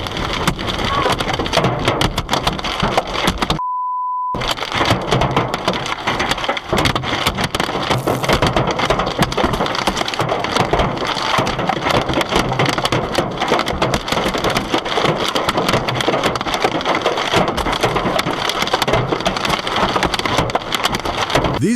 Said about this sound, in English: These hailstones were not falling gently. They hammered cars from above, shattering glass